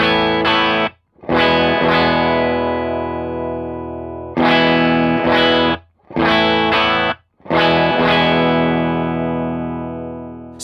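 An electric guitar rings out in repeated distorted chords through an effects chain while different capacitors are compared, with loud sustained strums separated by brief silences and no talking.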